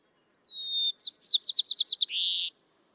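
A single white-crowned sparrow song rings out clean and close: a sustained whistle, a rapid series of slurred chirps, and a closing buzzy note against silence.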